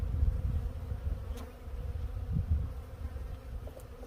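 Honey bees swarm around hives knocked over in a winter storm, making a steady, dense buzz that holds throughout, with a few louder passes close by.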